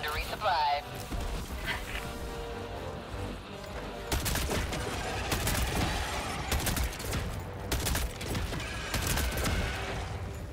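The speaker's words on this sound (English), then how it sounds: "God, so much explosions." Explosions and gunfire from a Helldivers 2 battle, with dense bursts of blasts and rapid shots throughout and heavy impacts around the middle, while a player talks over the combat.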